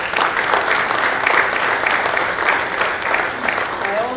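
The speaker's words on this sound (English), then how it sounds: "Can I get an applause, please?" A seminar audience of Rotary members claps in a room, a loud, even burst of many hands with faint rhythmic peaks, continuing throughout with no speech on top.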